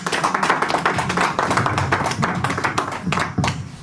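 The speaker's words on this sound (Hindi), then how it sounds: "जोरदार तालियां हो जाएं" Audience applause at a Ghalib anniversary poetry event, a dense steady wash of many hands clapping throughout, loud and close.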